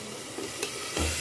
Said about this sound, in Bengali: এখানে হচ্ছে আলু ভাজা